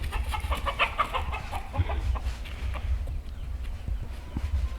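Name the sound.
roosters in a flock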